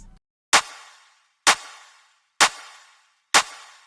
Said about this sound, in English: we're going to layer together 2 clap samples, playing on every other kick beat